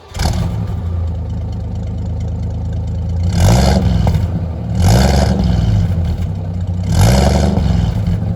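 A Chevrolet Veraneio's 4.3 litre Chevrolet Brasil engine runs close and loud, idling with a low rumble between three short revving bursts.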